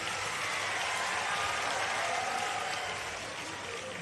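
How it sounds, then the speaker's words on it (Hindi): An audience at a university campus inauguration ceremony in Khargone claps loudly and steadily, a dense sustained wash of applause that eases slightly toward the end. "पहले तो बेटी के लिए जोरदार ताली बजाओ।"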